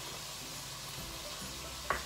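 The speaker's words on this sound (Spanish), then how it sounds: "Estoy tratando de mezclar todo bien." Ground meat (giniling) being stirred and mixed in a frying pan, a soft continuous sizzle with faint scraping, ending in a single sharp utensil tap against the pan.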